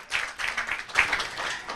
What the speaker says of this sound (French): On applaudit très fort pour docteur Adouko Patricia.